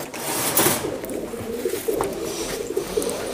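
A Nildumma pigeon coos softly at close range, low repeated murmuring calls over faint background noise.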